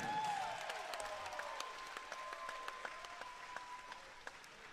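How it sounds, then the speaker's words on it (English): Crowd applause at a fight night event, a sustained moderately distant wash of clapping with scattered sharper claps standing out, no voices over it. "Fight Night fans first, can we give a big round of applause to"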